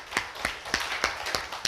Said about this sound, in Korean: 믿으면 박수.